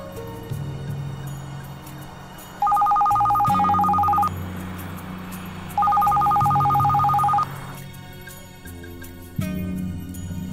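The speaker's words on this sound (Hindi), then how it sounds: "तुम्हारे लिए फोन है।" A telephone rings in a Hollywood action thriller scene, with two shrill electronic ring bursts about three seconds apart over a low background music bed.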